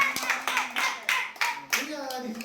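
A family claps for the winner, Chinchu, in a room. Bursts of close handclaps are spread across the moment, and a voice and other voices talk between and over them.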